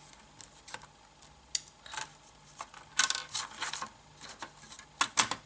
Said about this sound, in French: je vais découper une carte de 15 cm par 30 cm